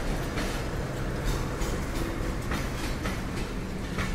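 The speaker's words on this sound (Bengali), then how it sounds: "দুপুর 12টা 2 মিনিটে 733 আপ তিতুমির এক্সপ্রেস পার্বতীপুর এসে প্রবেশ করলো।" The 733 Up Titumir Express passenger train rolls into Parbatipur junction, a loud continuous rumble with rhythmic clacking of wheels over rail joints, close by and steady.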